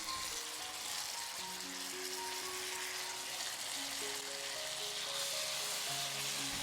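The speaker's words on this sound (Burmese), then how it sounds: "ခုနခရမ်းသီးမီဖုတ်ထားတာလေးထည့်ပြီးတော့ကြော်ပေးလိုက်ပါမယ်ရှင်" Grilled eggplant frying in a pan with onion and garlic gives a steady, soft sizzle running the whole time, with faint tonal hums under it and no voices.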